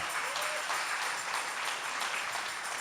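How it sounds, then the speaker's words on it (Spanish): Even, continuous applause from a church congregation fills the space, a dense wash of clapping hands that holds steady throughout. "Dale el aplauso si quieres"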